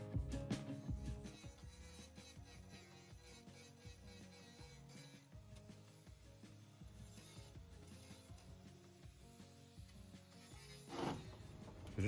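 A drill bores out bonded fittings on a Mercedes Vario van, grinding and rubbing in steady bursts with a rhythmic pulsing whir and metallic rattles, fairly close but moderate in level.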